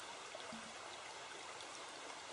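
A river stream flowing through a deep trench cut into the landscape, heard as a faint, steady wash of running water with no voices.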